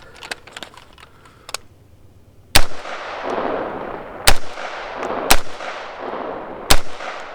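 A BCA 20-inch retro M16A4-style rifle fires four sharp, loud shots spaced unevenly at an outdoor 20-yard range, each crack followed by a short echoing tail, after some faint clicks and handling noise.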